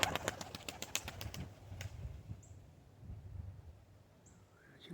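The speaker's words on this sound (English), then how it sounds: "It's a black homing pigeon." A black homing pigeon coos low and soft beneath a brief flurry of flapping wings and clicks at the start, with a few faint chirps in the background.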